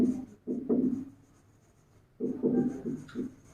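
Chalk or marker strokes on a classroom board during a physics lesson on dimensions, two bursts of close scratchy writing separated by a quiet pause, with no talk.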